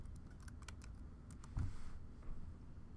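Someone types a password on a computer keyboard, a quick run of soft, close keystroke clicks with a slightly louder cluster near the middle, over a quiet room.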